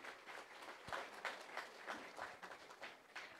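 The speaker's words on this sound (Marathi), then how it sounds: "यासाठी जोरदार टाळ्या व्हायला हव्यात।" Audience applause at an awards ceremony honouring artists: a steady wash of many hands clapping, fairly faint and distant, continuing evenly for a few seconds without speech.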